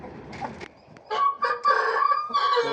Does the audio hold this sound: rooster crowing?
yes